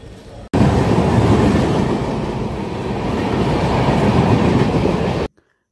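A train rolls loudly and steadily alongside the platform at Dankuni railway station, near and continuous with a rumbling clatter of wheels on rails, then cuts off abruptly.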